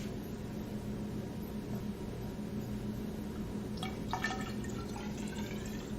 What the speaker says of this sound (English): when I pour some more water on this side that has the opening.